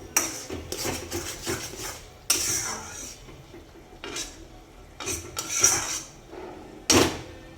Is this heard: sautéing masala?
yes